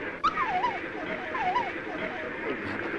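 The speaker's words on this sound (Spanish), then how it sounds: "Eres un perro malo." A dog whimpers and yips in short, wavering whines over a steady murmur of background noise, fairly close and moderately loud, with no clear full barks.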